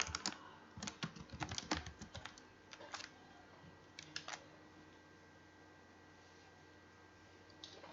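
Several students type on computer keyboards in bursts of quick clicking keystrokes, busy at first and then thinning to scattered taps, close and fairly quiet, with no talking.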